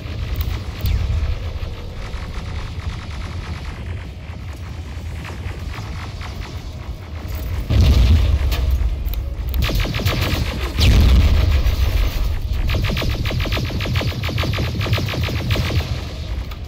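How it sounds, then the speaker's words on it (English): Explosions thunder through a war scene in the video game Terminator: Resistance, with a creaking mechanical rumble building into two loud booming blasts about three seconds apart amid ongoing battle noise. "This is a pretty good war scene in the game. Pretty well done with all the explosions."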